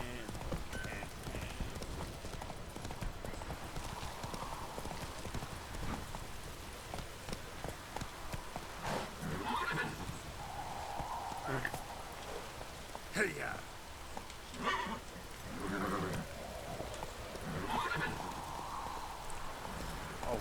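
Horse Roach's hooves trot in a steady clip-clop through The Witcher 3: Wild Hunt, with rain pattering in the background and a voice talking over the hoofbeats at times.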